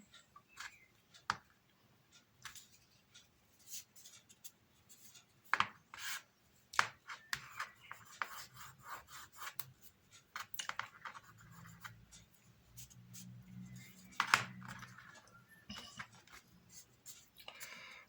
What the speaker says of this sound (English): Rub your fingers up both sides, clear off any excess glue.